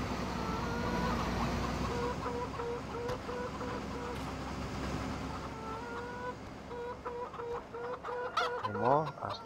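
Chickens in Farming Simulator 2015 cluck steadily and repeatedly in a farmyard, with a rising squawk near the end, under a low game background hum.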